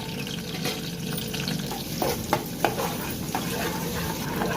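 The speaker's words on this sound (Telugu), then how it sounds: "బాగా గోల్డెన్ బ్రౌన్ కలర్ వచ్చేంత వరకు ఫ్రై చేసుకోవాలి." Chopped onions fry in hot oil in a pan, a steady close crackling sizzle with a few sharp stirring clinks near the middle, no voices.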